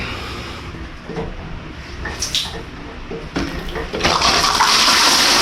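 Water gushes steadily from a bathroom tap in Port Barton, Palawan, Philippines, growing louder and stronger toward the end, with a few knocks and clatters in between.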